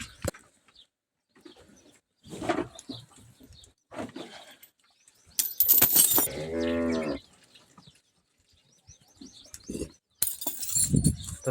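Cows on a village farm, just let loose to drink, give several loud, drawn-out moos, one long harmonic call mid-clip and another near the end, between quieter shuffling and bird sounds.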